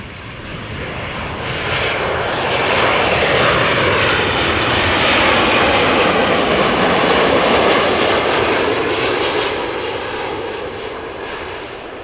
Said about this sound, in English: Looks like a whole train of airplanes taking off, taxiing.